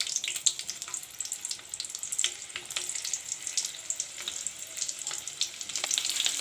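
Green chilies sizzle in mustard oil, a light, crackling spatter with irregular pops and hiss, fairly faint and continuous with a brief watery splash.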